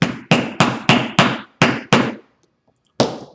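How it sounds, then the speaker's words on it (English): A hole punch is hammered through layered canvas and leather for a tote bag: seven sharp, evenly spaced blows land close and loud, then a pause and one final strike. "Drive my punch through there."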